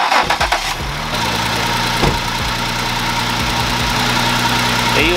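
A car engine cranks briefly, started with a SOLVTIN S6 battery jump starter, and catches, then settles into a steady, close idle with a low rumbling hum.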